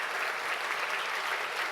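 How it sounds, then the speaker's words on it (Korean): Audience applause at a university president's inauguration ceremony, a steady dense wash of clapping throughout, moderately distant and without talk. "큰 박수 부탁드립니다."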